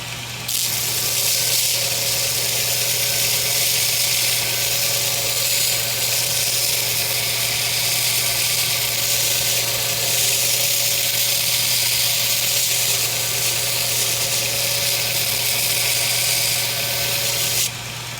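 Steady, continuous hiss of a belt grinder working the belly of a hand-ground hollow-ground knife blade, loud and close with a constant motor hum beneath, running unbroken for the whole stretch.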